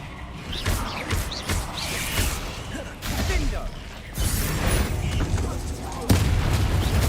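Repeated explosive spell blasts and bursts in the Hogwarts Legacy video game, several sharp booms in quick succession amid dense battle noise, loud and close, with a voice calling out over the action.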